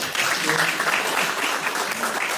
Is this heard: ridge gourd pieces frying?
no